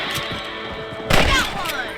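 A single rifle shot cracks out in Red Dead Redemption during a rabbit hunt, one loud sharp report over a steady game backdrop of ambient noise, with a voice talking nearby.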